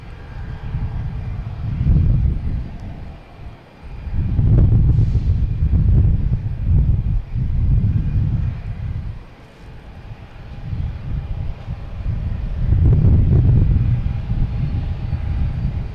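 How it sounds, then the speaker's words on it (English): A Southwest Boeing 737-800 inbound from Baltimore arrives at Boston Logan, its jet engines a loud, steady roar that swells and eases in broad waves, buffeted by wind on the microphone, with no voices. "we have a Southwest coming in from Baltimore, Washington International Airport"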